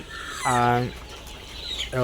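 Egyptian Fayoumi chickens cluck nearby in two short, squawky bursts separated by a brief pause, with a low background hum underneath.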